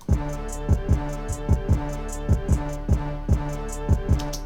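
A music beat opens with a repeated, stuttering downbeat: punchy low hits in a choppy pattern over a sustained tonal bed, no voices.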